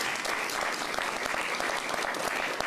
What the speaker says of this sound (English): Give our council a round of applause